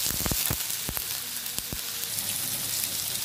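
Chopped vegetables for egg fried rice fry in a pan, a steady crackling sizzle broken by several sharp scraping and tapping knocks from stirring, heard up close.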